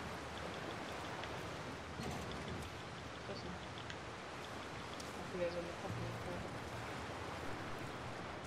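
Steady thunderstorm rain in The Last of Us Part 2, a dense hiss of downpour on water and surfaces with a few faint thumps, continuing under quiet talk in German.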